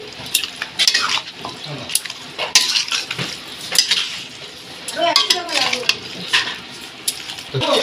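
Chicken being mixed by hand with mustard oil and salt in a bowl for Dhaba-style butter chicken: close, irregular scraping and clinking of a utensil against the dish, with soft wet squelches in between.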